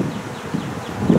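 Honeybees buzz close by around a hive frame of Better Comb foundation from Better Bee, a dense, continuous hum that swells and fades slightly over a second or so.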